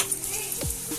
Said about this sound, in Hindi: अदा रसुण छेचा पकई दिंतु